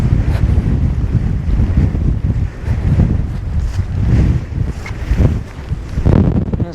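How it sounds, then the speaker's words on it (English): Strong gusty wind on Bowfell, a Lake District mountain, buffeting the microphone with loud low rumbling surges and flutter that swell and ease in waves throughout, with no talking. "the wind's really gusty this afternoon"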